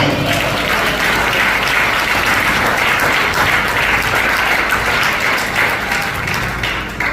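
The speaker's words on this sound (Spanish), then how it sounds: "Denle un aplauso al Señor." A church congregation applauding, dense sustained clapping that fills the whole stretch at high volume with no break.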